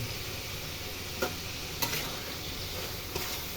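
Taro pieces stir-fried in a pan of well-cooked spiced masala for a Bengali taro curry, giving a steady close sizzle throughout with a few brief scraping stirs.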